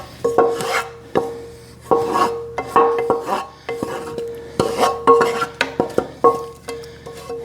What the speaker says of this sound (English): we're going to just tip it right out onto this sheet pan